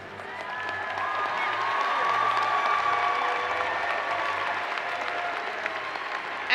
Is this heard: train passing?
no